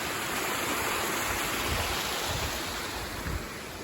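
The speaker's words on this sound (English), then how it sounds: "We're leaving the waterfall." Turner Falls waterfall in Oklahoma gives a steady, broad roar of rushing water, continuous and fairly loud throughout with no talking.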